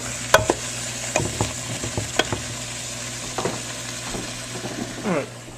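Red onions stew and sizzle in a pan for an oven-baked Egyptian-style sea bass dish. A soft, steady sizzle runs underneath while a utensil stirs and scrapes the pan with occasional clinks.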